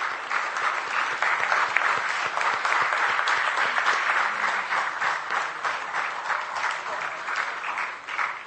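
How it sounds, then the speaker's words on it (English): An audience applauds at a formal lecture event, a dense, sustained wash of many hands clapping that holds steady for the full stretch and tapers slightly at the end, with no speech over it. "let's keep the applause going"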